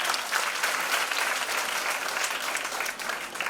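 An indoor audience claps steadily for a woman entrepreneur's talk, a dense sustained wash of applause with no break that eases slightly at the end.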